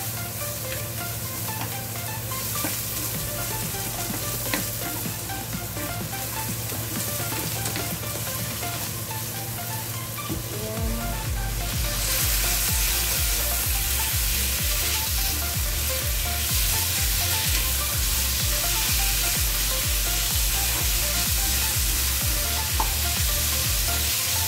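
Cucumber and chicken stir-frying in oil, a steady loud sizzle with clattering stirring strokes that grow busier and more rhythmic partway through, close by with no voices.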